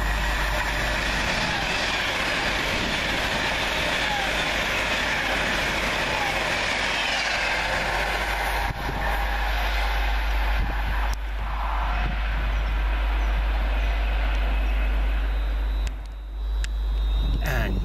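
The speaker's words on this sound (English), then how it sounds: "Just departing on the down slow 350 120 along with 350 102" Class 350 electric trains pull out of Rugeley Trent Valley station, producing a loud, continuous low rumble and engine drone with faint rising whine, heard up close. Someone speaks over it.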